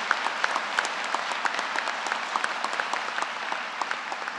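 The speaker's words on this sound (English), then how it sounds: "Give the concept a round of applause for all of us being strong citizens." An audience at a university undergraduate winter commencement ceremony applauds, a loud, continuous crackle of many hands filling a large hall, with individual claps popping out of the steady mass.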